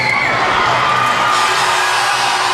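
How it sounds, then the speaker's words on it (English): A crowd at a university basketball championship game between Lakehead and Carleton roars loudly in a dense, sustained wash of cheering and shouting. "You can see the crowd react."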